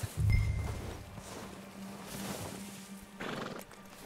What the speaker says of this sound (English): I already punched a damn horse. Sorry, horse.